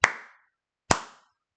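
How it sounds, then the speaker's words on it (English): Two sharp hand claps about a second apart, close and fairly loud, each with a short decaying ring and silence between. "Worst clap I've ever done."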